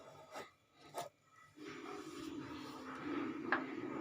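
A knife cuts through a set sago milk pudding, giving a close, soft rasping and scraping drag that runs steadily for a couple of seconds after a few short taps.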